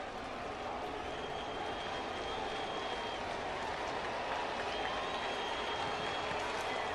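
Red Sox baseball stadium crowd of about 36,000 late in a ninth inning, a dense, steady roar of cheering and clapping that stays level throughout.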